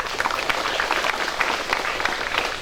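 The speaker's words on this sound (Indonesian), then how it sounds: "Kita tepuk tangan untuk para guru kita." Students and teachers at a school talk show clapping for the teachers, steady close crowd applause with sharp individual claps throughout.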